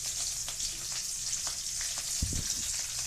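Onion and curry leaves sizzling in a frying pan, a steady hiss of frying oil with small crackles throughout and a brief stirring clatter near the end.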